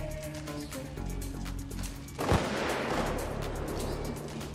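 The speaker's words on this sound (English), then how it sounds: "you're shooting me through the wall" Gunfire heard through a wall in the Payday 2 video game: a sharp, loud shot bursts out mid-clip over a steady background hum, with faint muffled pops around it.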